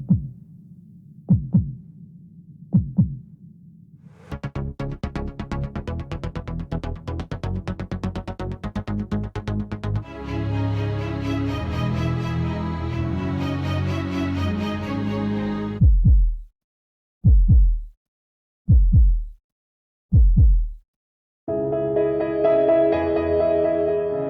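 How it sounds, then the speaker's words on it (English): The Audi heartbeat sound effect, a deep synthesized pulse, thumps in low paired beats, swells into a dense sustained layered passage, then returns to isolated loud thuds before a final rising tone. "The Audi heartbeat is very important in this scene."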